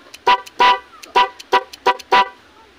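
A motorcycle's musical horn plays a series of six short, bright tones in a quick, uneven rhythm, loud and close, with no talking.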